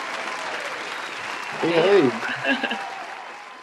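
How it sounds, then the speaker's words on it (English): A studio audience applauds as a young woman guest is welcomed onto a morning talk show, a steady wash of clapping with a voice calling out a greeting over it partway through. "We got to clap it in for this young lady"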